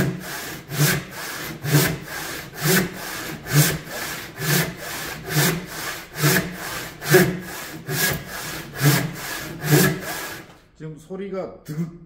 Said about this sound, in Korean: 지금 소리가 득득 하는 소리가 나죠. 그거는 내가 톱을 굉장히 누른다는 이야기예요.